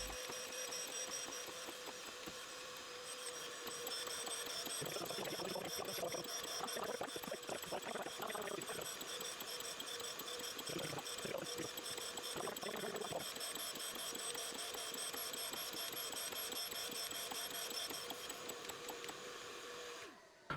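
A surface grinder works flat metal parts with light in-feed cuts, giving a steady motor whine and a constant machine drone, with a faint rougher grinding texture rising midway, continuous throughout and free of speech.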